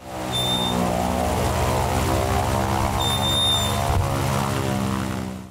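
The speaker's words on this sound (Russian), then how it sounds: "Первая партия парашютистов взмыла в воздух на самолете Ан-2." An Antonov An-2 propeller biplane carrying a load of parachutists drones loudly and steadily. The close, constant engine and propeller roar fills the whole stretch.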